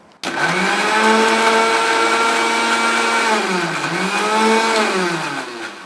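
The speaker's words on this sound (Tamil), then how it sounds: "இது ரெண்டுமே கொஞ்சம் கோரஸாக ஆகிற வரைக்கும் நம்ம அரைச்சி எடுத்துடலாம்" A mixer grinder coarsely chopping green chillies and soya kicks on abruptly and whirs loudly and steadily for several seconds, its motor pitch dipping briefly under load before recovering, with no talking over it.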